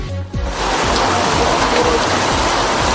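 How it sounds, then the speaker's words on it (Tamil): Heavy rain pours down across the Thiruvarur district in Tamil Nadu, a loud, dense, continuous hiss and patter of water that fills the whole scene with no voices. "திருவாரூர் மாவட்டத்தில் பல்வேறு இடங்களில் கனமழை பெய்தது."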